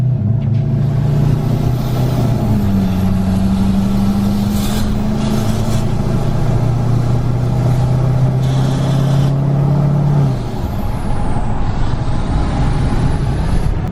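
A 2019 L5P Duramax truck engine with a new exhaust and tune drones loudly and steadily through a transmission relearn, its pitch climbing gradually and then dropping as it shifts, close and alone.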